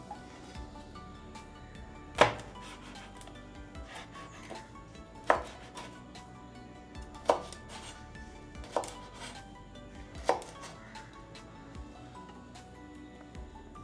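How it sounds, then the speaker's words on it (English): Aloe vera leaf being cut into pieces on a board, five or six separate knife chops spaced a couple of seconds apart over a quiet background. "I need to cut this aloe vera into pieces"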